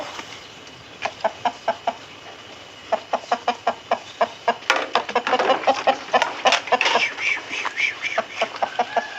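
Chickens cluck close by in a quick, regular series of short sharp notes that grows busier and overlapping, with several birds clucking at once toward the end.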